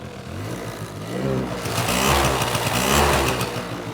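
A 1985 Yamaha TRY 50 two-stroke motorbike revs on a stand with its rear wheel touching the ground, the small engine buzzing and rising in pitch through short throttle blips, close and moderately loud.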